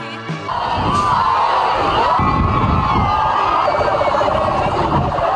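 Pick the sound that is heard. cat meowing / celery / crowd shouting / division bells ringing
crowd shouting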